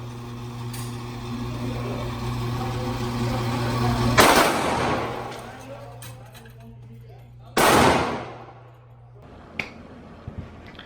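Two sharp gunshots from a VP9 pistol at a shooting range crack loud and close over a steady background hum, with a few fainter clicks and taps after them.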